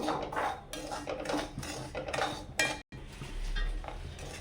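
Metal spoon scraping and clinking against a pan in repeated strokes as semolina roasts for upma, close and fairly loud, with a faint sizzle underneath and no talking.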